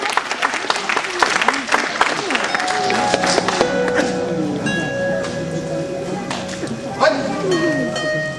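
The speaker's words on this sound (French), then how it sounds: "on applaudit donc ce club venu tout spécialement pour le KO à l'ennui" An audience at a martial arts demonstration in Comines, Belgium applauds a visiting ninjutsu club, dense clapping that thins out while a voice speaks over it.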